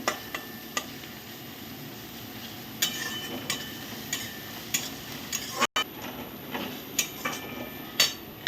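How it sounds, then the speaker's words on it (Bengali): Garlic frying in a pan for a Bengali muri ghonto with catla fish head: a low, steady sizzle broken by irregular spatula clicks and scrapes against the pan, with a brief dropout partway through and no voices. "এবার রসুনটা একটু ভাজা ভাজা করে নেব।"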